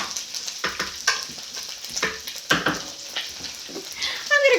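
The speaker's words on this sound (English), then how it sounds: "our pan looks like it's nice and hot. We're at about medium heat, medium high. I'm gonna go ahead and add the sausage to the pan" Sausage frying in a hot pan at medium-high heat, sizzling with spatula scrapes and stirring knocks, close up, with faint voice traces near the end.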